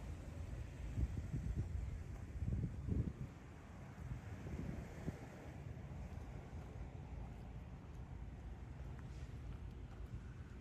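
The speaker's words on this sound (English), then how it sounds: "The ocean is very rough today." Rough ocean surf churned up by a hurricane several hundred miles offshore, a steady low roar of waves with wind buffeting the microphone, swelling in a few louder surges early on and continuing without any talk.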